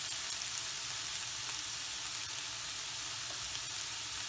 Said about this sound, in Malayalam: സവാള ഒന്ന് വഴന്ന് വരണം.